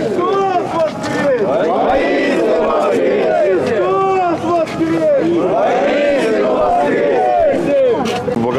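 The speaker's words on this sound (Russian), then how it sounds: "Православные верующие с ликованием и праздничными возгласами встретили символ возрождения" A large crowd of Orthodox believers cheering and shouting in jubilation: many overlapping voices raise loud, sustained calls and whoops in a dense, continuous roar.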